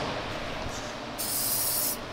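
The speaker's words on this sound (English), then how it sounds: "Add some silicone spray." A short, close hissing burst of silicone spray from an aerosol can onto vehicle door hinges rises over steady background noise, lasting under a second.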